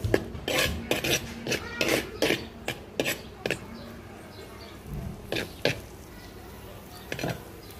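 Cooked dal being mashed and stirred in a pot with a metal utensil ahead of tempering, a run of sharp scraping clanks and knocks near at hand, denser at first and then sparser.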